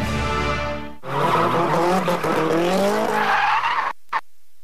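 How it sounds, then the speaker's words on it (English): Car tires shriek and squeal as a car is deliberately oversteered into slides through sharp turns at a drifting competition: a loud, wavering screech rises after a brief engine drone and cuts off abruptly near the end. "A competition in which cars are deliberately oversteered to slide and spin through a series of sharp turns."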